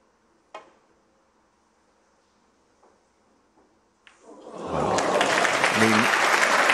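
After a quiet snooker hall with a single sharp ball click, a Tour Championship 2023 audience breaks into loud, sustained applause for a fortunate shot in the Mark Selby versus Ryan Day quarter-final, and a commentator talks over the clapping.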